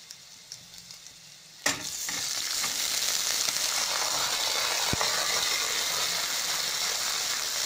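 Garlic and vegetables frying in a pan: a steady, dense sizzle bursts in suddenly after a quiet start and holds loud and even to the end, with a single sharp tap partway through.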